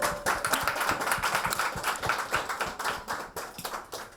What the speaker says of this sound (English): Can I get a round of applause for all these women?